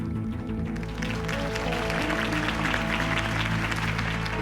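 Crowd applause in the Batman: The Telltale Series game, a dense, steady wash of clapping and cheering that holds loud throughout, with a low music-like bed beneath.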